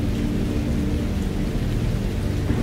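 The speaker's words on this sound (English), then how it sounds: "All that rain." Heavy rain pours steadily and loudly on surfaces nearby, a dense unbroken wash of patter with a low rumbling undertone, no voices.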